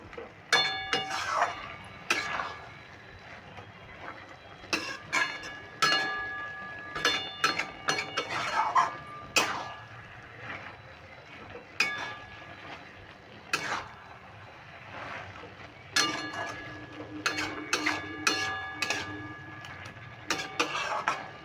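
A spoon stirring and scraping a pan of banana-flower curry with ghee and red-lentil dumplings: sharp, irregular metallic clicks and taps in quick clusters over a faint background hum, fairly quiet and close.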